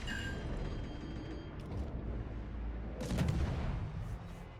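Enemy guns fire in a video game, a few muffled booms and shots landing near the player over a low rumbling background, with a sharper burst of fire about two-thirds through.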